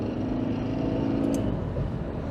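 A car engine pulls hard while overtaking on a hilly road, a steady, loud droning hum with road and wind rumble and no talking.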